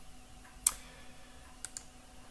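Three sharp computer mouse clicks, one alone and then a quick pair, sounding close and dry over a faint steady hum during work with surface and contour data on a computer.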